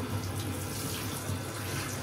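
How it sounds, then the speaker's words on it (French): Steady shower water pours and splashes over a freshly repotted anthurium, a continuous soft hiss with no voices. "Maintenant on passe à la douche."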